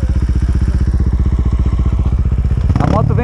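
A motorcycle engine thumps at a close, steady idle, then revs up sharply near the end.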